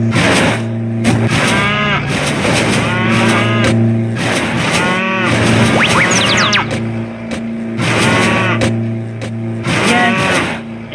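Cartoon cows mooing over and over in the video game Tasty Planet: Final Bite, loud overlapping calls above a steady game hum and bright blips.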